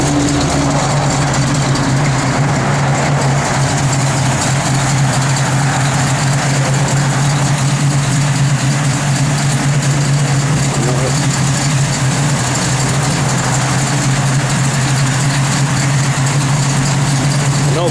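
Engine of a 1972 Chevrolet Nova idling with an aggressive cam, a loud, steady, close rumble with a lumpy low-end drone running unbroken throughout.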